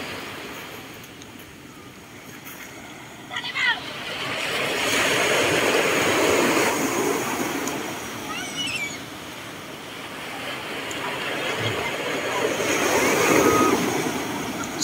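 Surf washes continuously onto the shore at Jose Beach in Bangar, La Union, a steady roar rising and falling under light wind.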